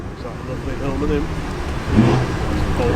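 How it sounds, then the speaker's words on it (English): A Hillman Imp classic car's engine burbles close by at low speed as it rolls into a breakfast car meet, with voices chatting over the steady motor. "Hillman Imp is on its way in now, super low."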